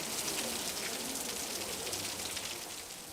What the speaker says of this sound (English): It's raining and everyone has gone to seek shelter.